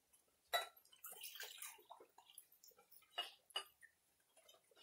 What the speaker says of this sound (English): I'm going to add 500 cubic centimeters of water to it.